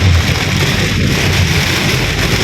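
Heavy rain pours steadily during a storm in Bangkok, a dense, constant hiss with a low rumble beneath, loud and unbroken throughout with no voices.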